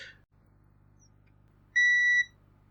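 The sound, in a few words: multimeter continuity test beep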